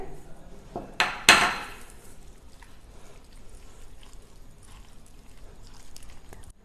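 Capsicum (bell pepper) pieces tipped into a pan while making semiya (vermicelli) breakfast: a pair of sharp clattering knocks of utensil on metal, then a quiet rustle afterward with no talking.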